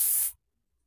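Short burst of a bidet sprayer jetting water, a bright hissing spray lasting about a third of a second before cutting off abruptly into silence.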